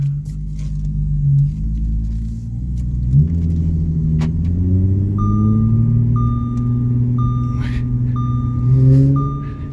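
A supercharged Audi bought at auction with a transmission fault creeps slowly through a parking lot held in a low gear, its engine a steady low rumble that rises slightly, while a repeating reversing-style beep chimes from around the middle of the clip.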